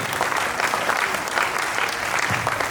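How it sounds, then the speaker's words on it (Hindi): Loud, continuous applause from a large crowd, dense and even throughout with no voices standing out. "एक जोरदार तालियां होनी चाहिए"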